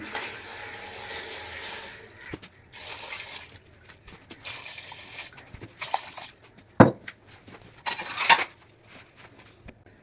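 Tap water splashing into a cooking pot for boiling macaroni in a home kitchen, a few intermittent runs of flow and splashes with quiet pauses and small clinks between, fairly close.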